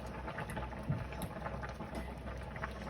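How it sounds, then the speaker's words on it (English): A pot of spaghetti sauce boiling on a stove, a faint bubbling and pattering simmer that runs steadily with small pops and no voices. "we're gonna let this boil for a little while here"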